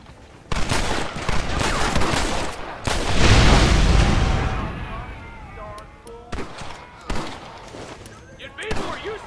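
A Gatling gun rattles in Red Dead Redemption, bursts of rapid close gunfire and a heavy boom, then scattered sharp shots, with voices talking over parts of it.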